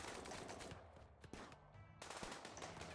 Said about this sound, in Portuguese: Tomou um tiro na cabeça ali.